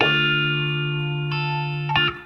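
A sustained distorted guitar note rings through a Palmer Roots Automat auto-wah pedal adjusted on its Q setting, with a brief swept filtered squelch near the end before it cuts off.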